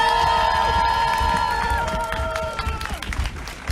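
Audience at a civic election candidate event cheering and shouting with applause, a loud crowd swell with whoops and voices that gradually fades.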